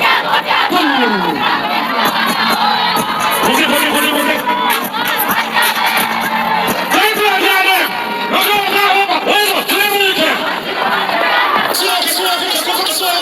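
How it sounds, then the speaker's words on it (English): A large crowd at a dancehall show roars, cheers and shouts continuously, loud and dense throughout, with someone talking over it. "So look at this, is the crowd reaction."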